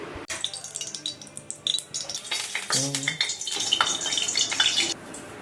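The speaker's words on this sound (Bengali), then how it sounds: "এখানে কড়াইতে আমি সাদা তেল একদম অল্প পরিমাণে দিলাম, এরপরে ওই ডাল বাটাটা ওর ভিতরে দিয়ে দিলাম।" Ground lentil paste drops into a little hot oil in a wok, setting off a close crackling sizzle with spatula scrapes and splattering bursts that build and then ease off, with no talking.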